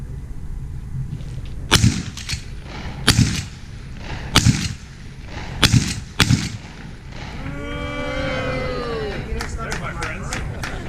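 Shotgun fired at targets during an outdoor demonstration, five sharp loud blasts at roughly one-second spacing, followed by cattle mooing nearby and a few more distant pops.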